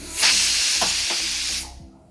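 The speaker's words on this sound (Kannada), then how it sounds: "ಈಗ ಕುಕ್ಕರ್ ಮುಚ್ಚಳ ಮುಚ್ಚಿ ಮೀಡಿಯಮ್ ಫ್ಲೇಮ್ ಒಳಗೆ 1 ಸೀಟಿ ಮಾಡ್ಕೊಳ್ತೀನಿ." Loud hissing burst of steam from a pressure cooker whistle on a gas stove while cooking tomato bath, a sustained spray-like release lasting over a second before quickly fading to quiet.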